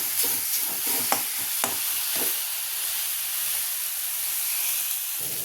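Eggplant sizzling and frying in a little oil while being stirred, a steady broadband hiss with a few sharp scraping knocks of the spoon early on, close and moderately loud.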